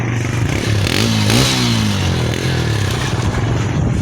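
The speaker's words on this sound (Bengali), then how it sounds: "একবার আমাদের বাইকের সাউন্ডটা শোনা" A motorcycle engine rumbles nearby, revving up briefly and then settling back to a steady, throaty idle.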